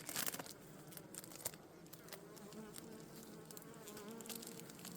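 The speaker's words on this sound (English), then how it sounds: "It's still packed with the bees." Honeybees crowded in a packed mini mating nuc give a faint, steady buzz on a hot day, with occasional close crackles and light rustling handling noises.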